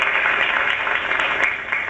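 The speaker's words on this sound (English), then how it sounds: "We applaud you." Audience at a 1954 cerebral palsy telethon broadcast applauding, a steady wash of many hands clapping at once, fairly close and continuous for a couple of seconds with no voices over it.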